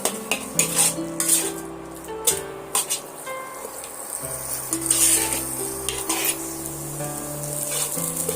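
Ginger-garlic paste sautéed with spices in a pan for Punjabi aloo dum, with frequent metal spoon scrapes and clinks against the pan over a low sizzle, close and steady, with background music underneath.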